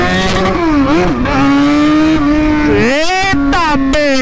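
A Yamaha XJ6 motorcycle engine revs loudly and close up, holding a steady high drone, then surging in sharp rising blips.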